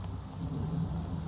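Steady rain with a low thunder rumble in a video game, quiet and continuous throughout the short stretch, with no talking over it.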